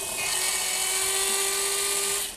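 A Tyco HP7 slot car with pro rear tires spins on a dyno's rollers, producing a continuous high-pitched motor whine with a steady tone, close and loud throughout.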